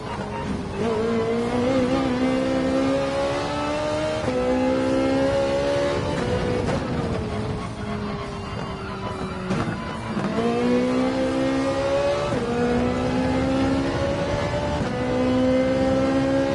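A Ferrari 458 in Gran Turismo 7 revs high through repeated upshifts, each climb in pitch broken by a quick gear change, with a loud, close, steady engine note and no one speaking.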